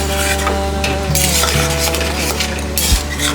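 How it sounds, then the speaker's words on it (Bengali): Prawns for bhapa chingri, with cashew paste and oil, are stirred in a pan: a loud, steady sizzle with close scraping and clinking of the utensil against the metal, and no talking. "একটু ভালো করে আর একটু নাড়িয়ে দেবো"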